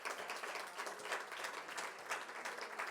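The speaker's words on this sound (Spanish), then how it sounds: "¿Por qué no le damos un aplauso al Señor" An audience at a church retreat plenary session claps together in sustained, even applause, fairly faint and distant, with no pauses.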